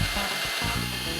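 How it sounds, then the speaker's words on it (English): A short burst of steady, buzzing drilling, as a drill bores a small hole into wood close by. "I drill a small hole in the end of a strip of wood"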